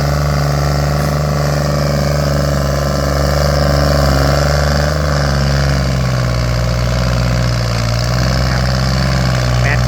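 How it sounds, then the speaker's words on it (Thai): Kubota L3408 DI tractor with a small three-cylinder direct-injection diesel engine, running at a steady idle close by, giving a continuous, even exhaust rumble for the whole stretch. "เสียงท่อลั่นๆเสียงท่อป้อๆเลยนะครับ"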